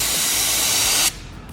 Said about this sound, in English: Time to spray, guys